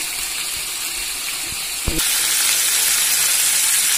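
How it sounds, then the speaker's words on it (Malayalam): Chicken pieces for tandoori chicken frying in butter in a pan, making a close, steady sizzle; a soft clunk just before the two-second mark is followed by a louder, brighter hiss. "ആ ഒരു കുറച്ച് ബട്ടർ കൊണ്ട് തന്നെ നമുക്ക് ഇത്രയും ചിക്കൻ വേവിച്ചെടുക്കാൻ പറ്റും"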